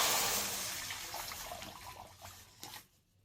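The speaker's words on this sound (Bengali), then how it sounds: "কড়া বসিয়ে কড়ায় জল দিয়ে দিচ্ছি।" Water pours into a kadai on a home stove while cooking shukto, a steady broad splash that fades out near the end, heard alone without talk.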